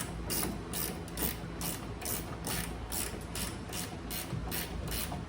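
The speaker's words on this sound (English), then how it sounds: "So we'll tighten this down." Ratchet wrench tightening a long bolt through a bowed board on a tailgate table for a 2021 Jeep Wrangler JL: a steady run of crisp, evenly spaced clicks, about two per second, close and alone.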